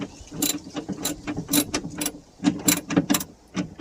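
A wrench ratchets on a bolt of a Pengor Penguin steering assembly, with quick metallic clicks and taps in uneven bursts, close up with light background hum.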